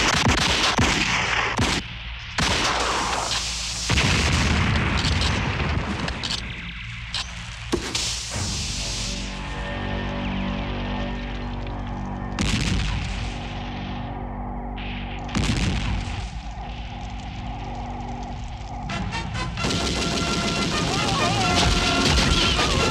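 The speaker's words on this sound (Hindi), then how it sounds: "उन्हें कवरिंग फायर दो।" Rapid gunfire and heavy explosions from a battle scene in the Hindi war film Border, loud and continuous with sharp bursts and booms, mixed with shouted voices and music throughout.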